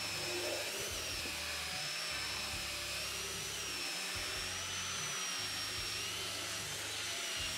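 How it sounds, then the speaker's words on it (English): A high-speed power drill running at its fastest setting whines steadily and continuously, loud and close, with a constant pitch and no talking. "A little bit of pressure on that drill, put it on the fastest setting"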